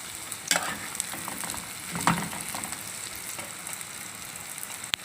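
Dried molokhia stirred in a cooking pot, a continuous sizzle with a few louder scraping strokes of the spoon, close and moderately loud.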